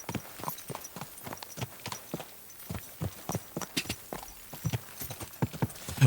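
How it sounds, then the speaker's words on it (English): Horse hooves clip-clop steadily at a walking pace in the medieval role-playing game Kingdom Come: Deliverance II, with close, crisp, evenly spaced strikes and no talk over them. "This horse must have cost a pretty groschen."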